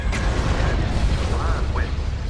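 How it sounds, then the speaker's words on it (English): Super Star Destroyer batteries fire during a space battle in the Star Wars game mod Thrawn's Revenge Galactic Conquest, a dense, continuous barrage of booming blasts over deep rumbling, loud and unbroken, with short zapping laser tones. "Super Star Destroyer ready. All batteries commence firing."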